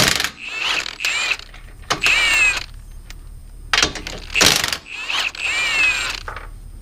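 Bolts are taken off the radius rods of a Can-Am Maverick X3 with a ratcheting tool, producing bursts of rapid mechanical clicking and whirring separated by short pauses, close and loud.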